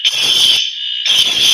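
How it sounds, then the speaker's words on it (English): A fire alarm blares loud and close with a shrill, piercing electronic tone. It sounds in harsh pulses with a short gap, and no talk is heard. "That is a fire alarm."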